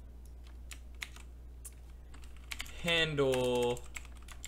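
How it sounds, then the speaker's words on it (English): Snappy computer keyboard keys click in quick, irregular bursts during coding, close and steady, with a voice briefly speaking over the typing. "What is my typing speed right now? It feels really snappy."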